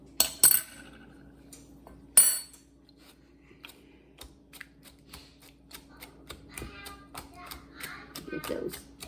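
Softened butter is beaten by hand in a mixing bowl for a chocolate chess pie, giving a rhythm of light clicks and scrapes. Louder knocks come at the start, with steady low hum in a quiet kitchen.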